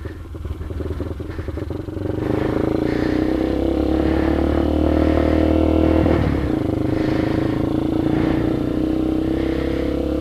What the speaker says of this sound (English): Time to give it a cold start push.